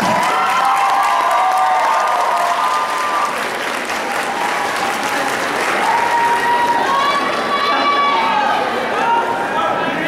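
Audience at a beauty-school graduation ceremony applauds steadily for about ten seconds, a dense, loud wash of clapping with some cheering and crowd murmur mixed in.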